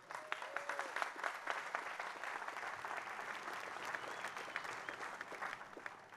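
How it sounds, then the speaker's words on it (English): A large commencement audience at an undergraduate ceremony applauds the class of 2022, a continuous wash of many hands clapping at moderate distance, steady throughout without voices standing out. "I want to take a moment to applaud our class of 2022."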